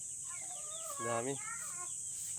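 Light Sussex hens in a backyard flock during laying time give a short burst of clucking at close range, rising briefly over a steady farmyard background with a faint bird-like hum throughout.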